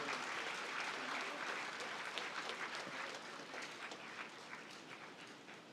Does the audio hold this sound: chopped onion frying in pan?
no